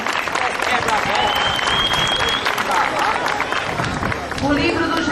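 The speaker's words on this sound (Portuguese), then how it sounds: "Palmas ao grupo" Loud, sustained applause from a crowd at a parish Bible walk event, steady clapping filling the whole stretch with crowd noise and a brief whistle mixed in.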